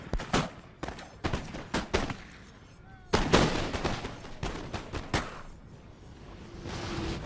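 In Napoleon: Total War, light infantry musket fire crackles in a rapid series of sharp, scattered shots, some close and loud and others thinner and more distant, with no voices.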